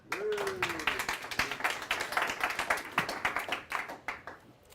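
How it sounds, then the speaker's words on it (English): A live outdoor event audience claps at a hot springs trail gathering, a brisk run of distinct hand claps with a brief voice or whistle at the start, tapering off near the end. "and a round of applause for yourself"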